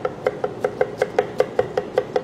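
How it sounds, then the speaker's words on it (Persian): Rapid, even knife chops through carrots strike a board about five times per second, close up and distinct, with no voices. "میریم واسه خرد کردن هویج"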